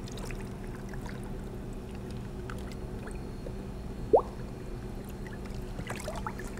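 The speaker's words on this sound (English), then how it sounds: "And we'll just circulate the water around while it gets mixed in there." Water circulated and mixed with beneficial nematodes in a greenhouse tank gives a steady, soft wash with faint sloshing and one brief squeak partway through.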